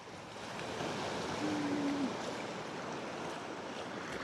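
Calm sea at low tide at Cabo Pulmo, small waves giving a soft, even wash and hiss throughout, fairly quiet with a faint brief tonal hum in the middle.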